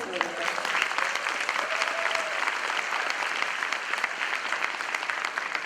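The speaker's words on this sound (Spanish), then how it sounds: "Un aplauso para ustedes." An auditorium audience at a Supreme Court simulation event applauds, a continuous dense patter of many hands at steady volume, with a voice briefly heard early on.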